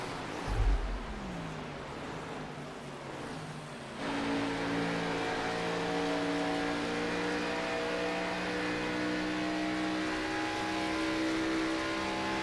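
Race cars accelerating in a sim racing game at Texas Motor Speedway, engines droning with rising whining tones that lock into a steady loud multi-car roar, a low thump near the start.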